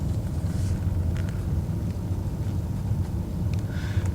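Steady low rumble of a BMW E39 5 Series driving along, continuous road and engine noise heard from inside the car with no talk.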